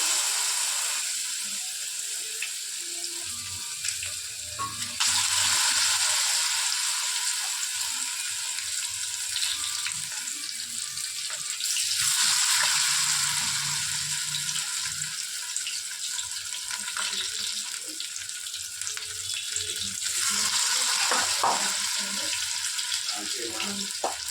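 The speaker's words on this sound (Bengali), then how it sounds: "এবার এই কটা লাস্ট যে কটা পড়ে আছে ওই কটা ভেজে নিচ্ছি।" Topse fish frying in a pan, a continuous loud bubbling sizzle that swells and eases over time, with faint background sounds and no clear talking.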